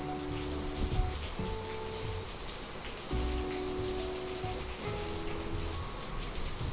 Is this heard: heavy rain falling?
yes